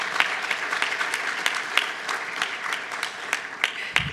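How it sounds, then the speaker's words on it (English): An audience applauds at a talk about young people in the Cayman Islands, a moderate round of clapping in which individual sharp claps stand out against a softer background of hands. "I would just like to give a round of applause for that because that is incredible"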